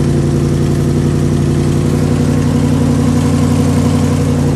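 A V8 engine in a Toyota Hilux monster truck idles after a bit of choke on a cool start, a loud steady low rumble with strong even harmonics and slight unevenness, close up and without talk.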